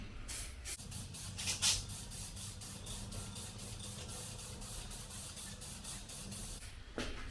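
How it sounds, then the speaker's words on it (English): Acid etch primer sprayed onto sanded metal spots, a close, steady aerosol hiss with several short bursts, running continuously throughout. "Use a bit of acid etch primer and paint up these spots where it's sanded."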